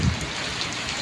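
Heavy torrential monsoon rain in Sadiqabad, southern Punjab, Pakistan, pouring down in a dense, steady roar with no pauses, loud and close.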